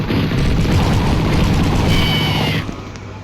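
A loud game explosion from Mini Militia booms and rumbles, then fades out sharply after about two and a half seconds.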